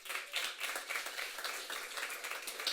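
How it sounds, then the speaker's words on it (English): Scattered audience clapping at a demo night event, a modest crowd applauding steadily and fairly quietly for a few seconds with no voices over it. "Let's give him a round of applause."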